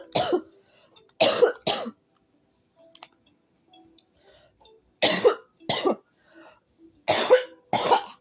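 Several sharp coughs come in clusters of two and three, separated by quiet gaps with faint clicks, close to the microphone.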